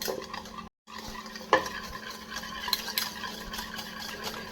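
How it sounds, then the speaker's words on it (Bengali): Hand whisking of sugar and oil into a creamy mixture for coffee cookies, a steady scraping and stirring in a bowl that runs continuously at close range, with one brief silent gap near the start. "এইভাবে ফেটাতে ফেটাতে যখন একটা ক্রিমের মতো হয়ে যাবে তখন এটা ছেড়ে দিতে হবে"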